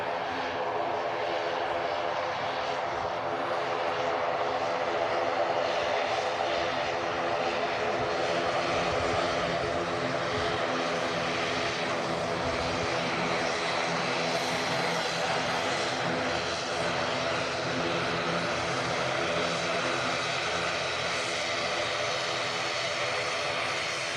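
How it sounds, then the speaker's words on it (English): A TUI Boeing Dreamliner jet at Manchester Airport roars steadily and loudly for the whole stretch, a broad sustained engine rush with a constant high whine and no pause. "TUI Dreamliner"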